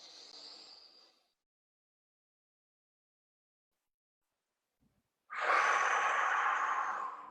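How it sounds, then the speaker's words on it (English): Slow, deep breaths during a diaphragmatic breathing exercise: a soft exhale fades out, a long silent hold follows, then a loud, close airy inhale starts and continues to the end. "Breathing into my diaphragm."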